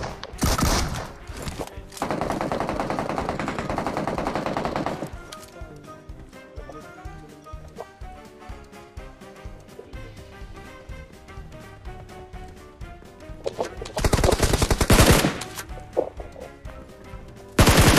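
Loud bursts of automatic gunfire in a multiplayer shooter game, arriving in two dense volleys at the start and near the end, with quieter game sounds and clattering effects between them.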